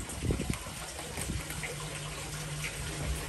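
Liquid treatment poured into koi pond water, a soft gushing and trickling splash against a constant background hum and low pump drone, fairly quiet.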